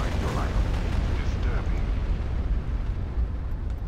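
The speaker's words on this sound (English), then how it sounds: "Bombardment incoming." Bombardment explosions in the first-person shooter RAGE, a dense, continuous roar of blasts and rumbling booms, loud and close, with a voice briefly audible.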